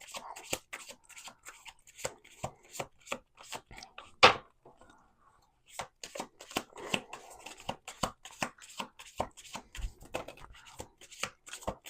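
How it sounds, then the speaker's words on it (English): A deck of tarot-style cards is shuffled in quick riffles and taps, close and soft, in rapid bursts separated by a brief pause with a louder slap, then more shuffling. "I'm going to do 3 shuffles."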